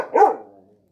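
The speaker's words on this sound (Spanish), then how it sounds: "Mi perro está un poco enojado hoy." A single dog bark, close and loud, one sharp burst that quickly trails off into silence.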